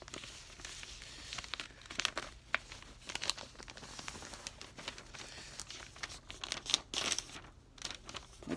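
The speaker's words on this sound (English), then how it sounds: "fold the triangle downwards, like along the lower edges" Sheets of paper being creased and folded into a paper airplane, giving quiet, scattered crinkles and soft crunching presses with short sharp creasing snaps, close by and without talk.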